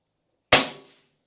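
An air rifle fires a single pellet at a target, one sharp, close crack out of silence with a quick fading tail.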